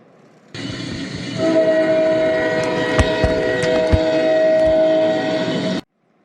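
A car-mounted train horn gives one long, loud, sustained chord lasting about five seconds before cutting off abruptly.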